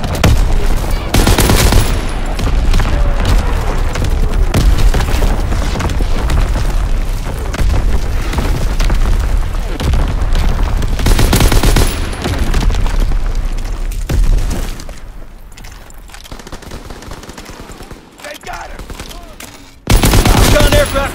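Artillery barrage in Call of Duty WW2, a long loud stretch of booming impacts and rattling fire with heavy blasts recurring throughout, radio-style voices sounding at times within the battle.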